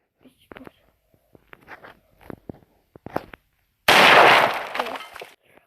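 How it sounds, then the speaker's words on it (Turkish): A bomb explosion in a ragdoll playground video game: a sudden loud, noisy burst that fades out over about a second, coming after several quiet clicks, taps and faint whispery sounds. "bomba"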